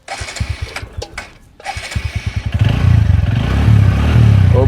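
A motorcycle on a village road: a few uneven engine pops and putters at first, then a rising, steady engine drone as it pulls away, loud and close with no talk.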